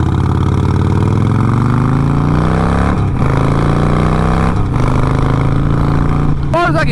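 A Harley-Davidson Roadster engine runs loud and steady through its leaking exhaust, with a throaty low rumble that rises in pitch and then settles, broken by a few brief shifts near the end.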